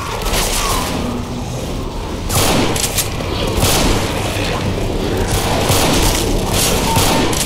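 Loud, dense gunfire in Left 4 Dead 2 hammers on continuously, with rapid booming shots and repeated sharp bursts over a thick, noisy backdrop.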